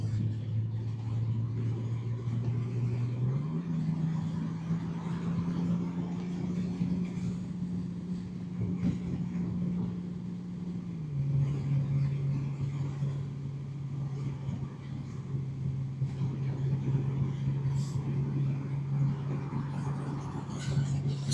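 A brand new 2025 Honda Goldwing motorcycle on the road, its engine a steady low drone with a constant rumble that shifts pitch slightly as gears and speed change, wind and road noise mixed in throughout.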